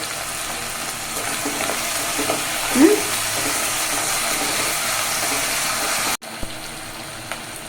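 Water pours into a hot pan of semiya upma tempered with curry leaves and salt, bringing a sharp hiss partway through over a steady sizzle, then a sudden cut to near silence near the end.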